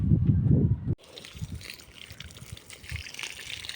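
Guavas picked from an unfertilized home garden are rinsed under running water, a steady trickle and splash after a brief loud rumble at the start.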